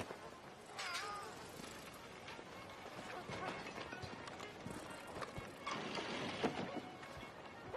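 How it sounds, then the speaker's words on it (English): A cat meows a few times, fairly faint, under a noisy, rustling background while a voice is around it. "Hey, kitty. Hey, cat."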